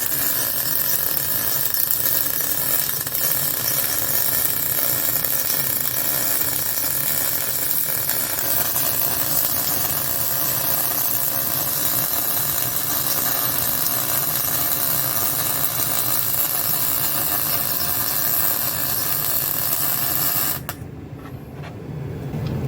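MIG PRO 250 welder running on 2 mm aluminum with argon shielding gas, a steady broadband crackling hiss sustained for about twenty seconds before cutting off abruptly near the end.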